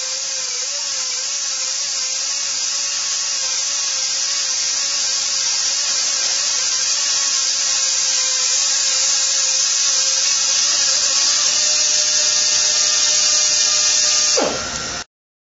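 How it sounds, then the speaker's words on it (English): Steady, loud, close whine of an H&S Tools IDMount machine's motor as its cutter machines a tube, a continuous buzzing drone holding for about fourteen seconds before cutting off abruptly. "With the motor running, slowly feed the cutter into the tube."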